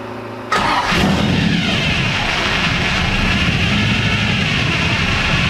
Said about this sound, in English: it should start up and idle and cruise just like it did